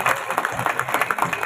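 Audience clapping to welcome the head of an organisation at a community gathering on stage, a dense, steady patter of many hands filling the space with no voices over it.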